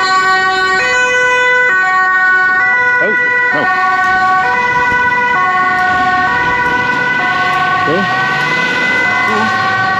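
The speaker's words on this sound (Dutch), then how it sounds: "Ambulance." An ambulance siren wails loudly with repeating two-tone steps and sliding whoops as it passes close by on a road, with traffic rumble beneath and a brief voice exclaiming.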